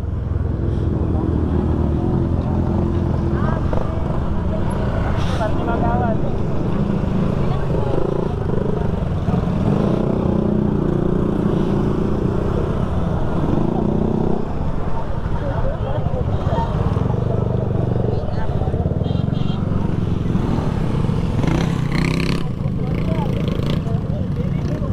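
Motorcycle engine running steadily through a group ride on the way to Agos River, a continuous low rumble with other bikes around, loud and close, with voices talking over it.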